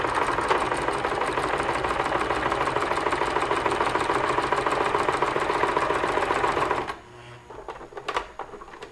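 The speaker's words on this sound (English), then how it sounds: "if I start stitching pick 2 and 3 together, just stitch a little bit." Sewing machine stitching handwoven rigid heddle fabric near the selvage edge, a steady loud mechanical whir for about seven seconds, then stopping abruptly, with a few quiet clicks and handling sounds after.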